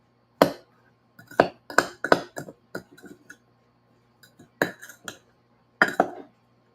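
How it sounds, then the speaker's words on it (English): Rhubarb being stirred with baking blend inside a mug for a crisp, a scattered series of sharp spoon clinks and taps against the mug, some clustered and some spaced apart, close and fairly quiet. "And I'm going to mix this up really,"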